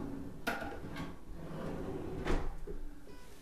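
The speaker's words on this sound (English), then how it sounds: "Nice soft closed drawers" Soft-close vanity drawers in a modern home's powder room glide shut, giving a few soft thuds and light knocks spread over a few seconds, near and fairly quiet.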